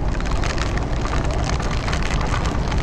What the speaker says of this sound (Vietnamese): đây mưa lớn quá